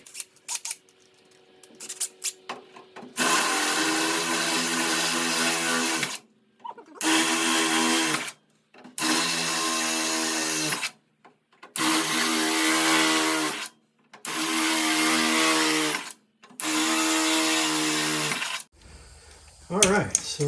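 A power drill bores 3/8-inch holes in a part for a 1969 Coronet rocker panel, running in five loud, steady bursts of several seconds each with short pauses between. A few quieter handling noises come before the drilling and after it.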